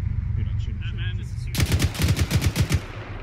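Automatic gunfire in the Arma 3 video game breaks out after a quieter stretch of low background rumble: a rapid string of loud, sharp bursts repeating in a steady rhythm for over a second, close and dominant.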